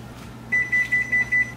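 An oven beeps five times in a steady rhythm after preheating to 500 degrees Fahrenheit, short clear electronic tones over a faint low hum.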